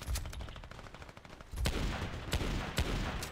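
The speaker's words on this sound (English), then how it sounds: "I'm getting shot at" Gunfire in the video game Battlefield Play4Free rattles in rapid bursts of repeated shots, with sharp, loud reports growing denser and closer after the first second and spaced heavier bangs near the end.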